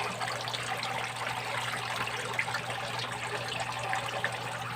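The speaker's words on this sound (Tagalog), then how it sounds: "tumutulo na yung pump natin, yung filter natin andyan na" Pond pump and filter on an outdoor catfish pond, a steady continuous trickle and splash of water with a low mechanical hum underneath, even and unbroken throughout.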